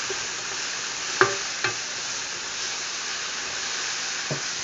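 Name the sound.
mushrooms and asparagus sautéing in pan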